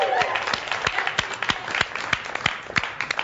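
Studio audience applauding in a talk-show setting, a dense burst of many hands clapping that carries on steadily for a few seconds, fairly close and loud.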